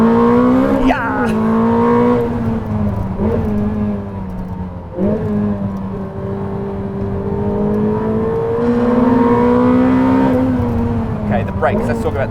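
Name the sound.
Ferrari SF90 XX driven flat out at Fiorano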